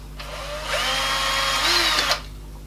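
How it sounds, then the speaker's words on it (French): A power drill bores holes for a small toy car garage, its motor whining up close for about two seconds with a rising pitch, then cutting off sharply. "je vais faire d'abord les trous maintenant"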